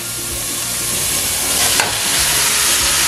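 Ground beef frying in a pan for a cheesy lasagna meat sauce, a steady broadband sizzle that holds for about three seconds with one brief louder hiss partway through, close and continuous with no talking.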